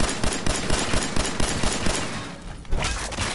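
Sustained automatic gunfire from the Fallout 4 video game, rapid rhythmic shots rattling steadily and loud throughout, with a brief lull before firing resumes.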